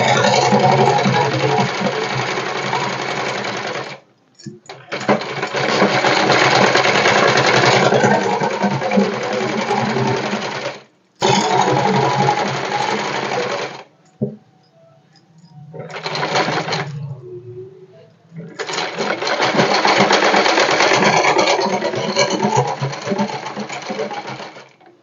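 A sewing machine stitches a straight street line in several long, loud bursts of rapid mechanical whirring. Short pauses and a few soft clicks separate the runs.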